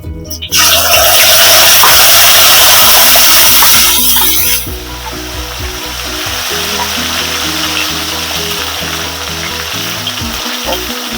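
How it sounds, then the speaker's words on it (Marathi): Cumin seeds and a pinch of asafoetida hit hot oil in a pan for a Dhaba-style rajma, giving a loud, bright sizzle that bursts in at once, then settles into a steady, quieter frying hiss with no talk. "तेल तापलंय आपलं आता जिरं घालून घेते जिरं फुलू दे चांगलं त्याच्यात थोडस हिंग"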